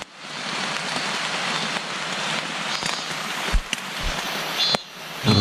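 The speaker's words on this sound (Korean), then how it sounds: "비가 옵니다." Rain pouring at a dark valley campsite in August, a dense, close hiss of drops on a surface with a few louder thumps and patters near the end.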